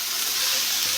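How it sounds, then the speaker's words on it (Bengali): Shredded cabbage hits frying onions in a hot pan, giving a loud, continuous hiss of sizzling oil that stays steady throughout the brief moment. "আমি এবার বাঁধাকপিগুলো দিয়ে দেবো"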